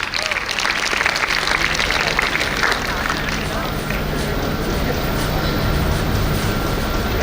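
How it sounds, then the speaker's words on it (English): Dense, loud applause from a large audience at a Model United Nations grand opening ceremony as the Director General comes on stage, a steady wash of clapping with crowd noise and voices mixed in. "please give a huge round of applause and welcome our Director General"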